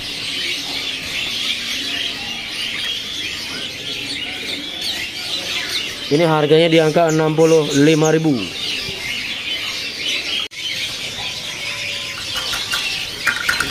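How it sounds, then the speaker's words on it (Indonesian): A wilis songbird at a market bird kiosk lets out a two-second burst of rapid, rising and falling chirps over busy background chatter, while someone talks nearby. "Di sini ada burung kicau wilis ya."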